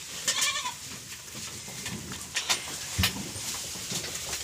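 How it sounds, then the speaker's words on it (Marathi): Goats on a farm bleat, with several wavering cries spread through the clip against a quiet background of faint rustling and shuffling. "शेळ्या किती पण खातात ना तरी नुसत्या बोंबलत राहतात"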